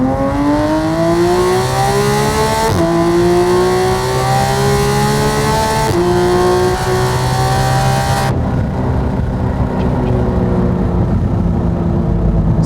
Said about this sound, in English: So as you can see, the car accelerates throughout the whole RPM.